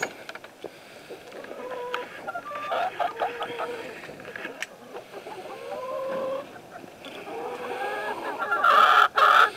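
Rooster and hens clucking in a farmyard coop while a new rooster is introduced to the flock, with repeated short calls and a louder burst near the end, heard under a person talking.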